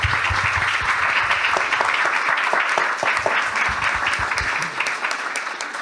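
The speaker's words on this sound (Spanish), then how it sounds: "Aplausos, por favor." An audience at a mathematics conference talk breaks into dense, sustained applause, a steady wash of clapping that thins slightly toward the end.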